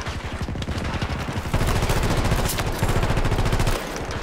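Rapid automatic gunfire from a video game gun rattles loudly and continuously for several seconds, dense bursts of shots close up with no pauses.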